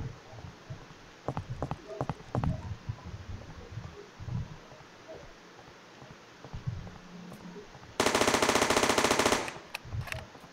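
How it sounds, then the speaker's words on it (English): Rapid automatic gunfire from the player character in a Unity mobile shooter game, a dense burst lasting over a second after scattered quieter clicks and thumps, loud and alone without talk. "now the shooting sound of the player will work perfectly fine"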